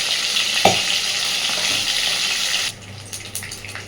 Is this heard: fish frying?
yes